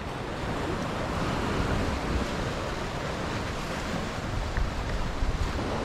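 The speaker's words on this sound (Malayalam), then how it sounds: "നല്ല കാറ്റാട്ടാ, ഒരു രക്ഷയില്ലാത്ത കാറ്റ്." Strong sea wind at Ettikkulam beach roars steadily against the microphone over the continuous wash of surf, a dense, unbroken rush with occasional gusty bumps and no voices.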